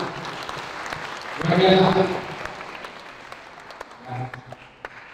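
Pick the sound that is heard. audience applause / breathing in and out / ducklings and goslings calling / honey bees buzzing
audience applause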